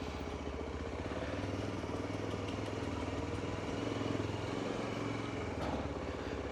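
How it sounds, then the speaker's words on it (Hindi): A Yezdi Adventure motorcycle engine idles steadily after being started, a low, even throbbing rumble that holds near and constant throughout with no talking. "तो मैंने स्टार्ट कर लिया है अपना बाइक"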